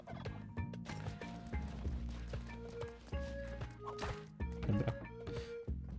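Turkey gobbling in the platformer game Spelunky 2, loud and repeated over busy game music, with hoof-like clip-clop sounds mixed in.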